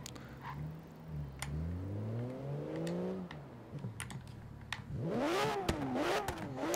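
A Porsche 911 GT3 RS 4.0 revs in Forza Horizon 3. The engine note climbs in a couple of rising sweeps, then surges again louder, while sharp keyboard clicks tap over it.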